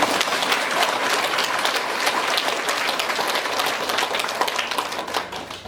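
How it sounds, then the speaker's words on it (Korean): An audience at a Korean Catholic monthly prayer meeting claps in sustained, dense applause, steady throughout and tapering slightly at the end, with no voices over it. "박수 한번 칩시다."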